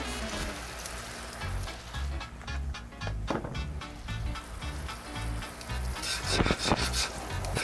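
Banana slices sizzle and fry in a brown sugar mixture on a FireDisc cooker, a steady close crackling hiss with occasional stirring clatter.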